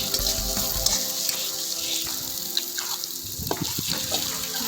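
Pieces of country duck meat go into spices frying in hot oil at an outdoor picnic cookout, giving a continuous hissing sizzle with light wet crackles and a few bubbling pops toward the end.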